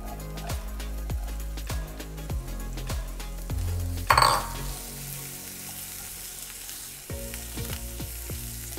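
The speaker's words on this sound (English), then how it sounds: "medium to high heat, we will saute our onions using some butter. And add our shallots" Onions and shallots saute in butter in a pan over medium-high heat, a steady close sizzle with light clinks of a utensil against the pan and one brief louder stir.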